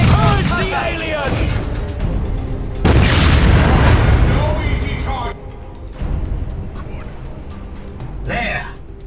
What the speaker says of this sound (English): That cannon blew open the gate!